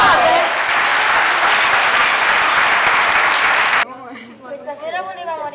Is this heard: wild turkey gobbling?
no